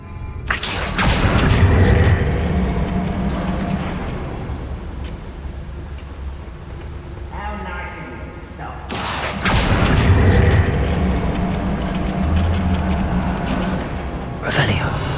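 Bombarda blasting-spell explosions burst out in Hogwarts Legacy inside a mine, with two loud booms about eight seconds apart, each trailing off into rumbling debris, and a voice speaking between them.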